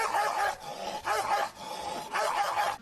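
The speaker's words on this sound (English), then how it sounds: "if you think the barking is bad" A dog barks in three separate bursts with brief pauses between them, each a cluster of sharp, fairly close barks, with no talking over them.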